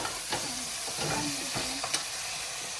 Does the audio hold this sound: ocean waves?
no